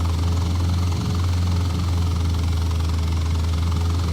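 A video game engine drones low and steady as it throttles down, a continuous near rumble with a constant hum and no pauses.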